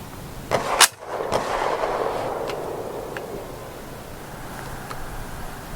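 A Romanian M56 SKS rifle fires one sharp, loud report near the start, after which a long rumbling echo rolls off across an open range toward steel targets as far as 240 yards away.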